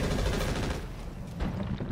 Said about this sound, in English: Let me turn on your other machine guns